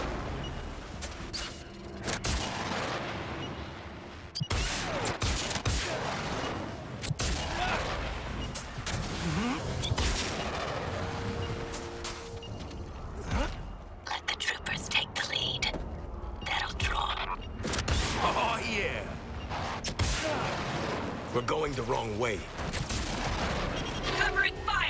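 Gunfire in the game Suicide Squad: Kill the Justice League, rapid bursts and booming shots scattered across a chaotic firefight, with voices talking over much of it.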